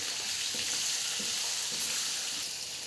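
Mutton frying in a pan with ginger garlic paste gives a loud, dense, continuous sizzle with faint stirring scrapes and no voices.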